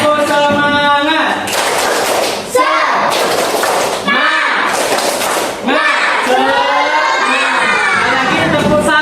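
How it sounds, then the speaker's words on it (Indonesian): A standing group performs a spirit clap, loud chanted shouts in repeated rhythmic bursts punctuated by claps and thuds, with young voices ringing out close and energetic. "Kita akan tepuk semangat, semuanya berdiri."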